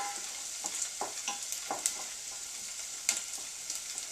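Onions sizzle steadily in a frying pan for a tortellini and shrimp dish. Light scraping taps from a utensil punctuate the even, close hiss, and no one speaks.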